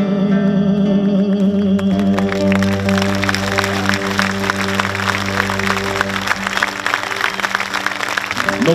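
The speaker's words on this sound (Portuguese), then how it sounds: "levante-se e agradeça para as pessoas que estão a aplaudir" Audience applause at a live concert at a book fair, steady loud clapping over sustained musical tones ringing from the stage, with a reverberant, echoing hall sound.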